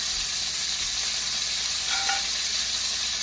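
Steak fries in a hot pan with a loud, constant sizzle and crackle, and a brief sharper spatter partway through; no one speaks.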